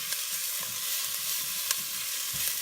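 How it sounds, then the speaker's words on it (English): Onion pieces with a bay leaf sauté in a pan, giving a steady, close sizzle with light scraping taps from constant stirring. "that's why I'm constantly stirring it around. And I'm just breaking up the onion pieces."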